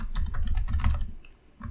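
Rapid typing of code on a computer keyboard, a quick burst of close, crisp key clicks that stops briefly, followed by a single further keystroke.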